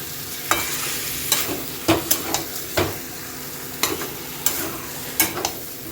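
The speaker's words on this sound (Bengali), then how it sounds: "মশলা কষিয়ে নিয়েছি, আর মাংস আলু দিয়ে আরও কষাতে থাকবো।" Meat and potatoes being stirred and sautéed with spices in a pan, soft steady sizzling broken by repeated sharp scrapes and clacks of the spoon at an irregular rhythm, close up with no talking.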